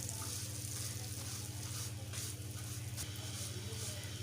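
Vermicelli (sevaiyan) frying in a pot for sheer khurma, stirred continuously with a spoon: a steady, close sizzle with a constant low hum beneath, and a faint scrape or knock near the three-second mark.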